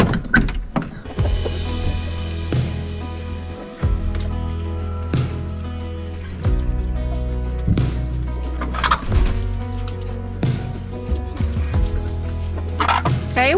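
Chickens at a homestead coop cluck and squawk close by in repeated bursts and drawn-out calls, with scraping and shuffling sounds in between.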